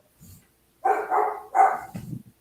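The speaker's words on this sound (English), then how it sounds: "Y'all hear her barking like crazy?" Lola, a pet dog, lets out a few loud, close barks in quick succession after a brief faint yip, with a short pause between bursts and a lower grumble at the end.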